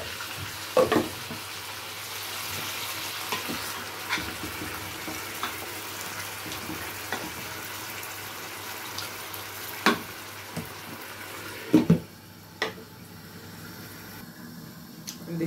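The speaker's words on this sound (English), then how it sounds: "Put a little bit of water in." Water runs into a pot of tomato sauce on the stove, a steady tap-like pour. Soft clinks and stirring knocks sound over it, and a faint sizzle comes from the pot.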